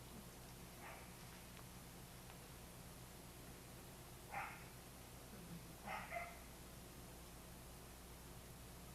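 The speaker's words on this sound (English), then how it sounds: "we have adopted a new dog and it's in the back talking to us" A newly adopted dog barks from a back room, giving a few faint, distant yips spaced several seconds apart over a low steady hiss.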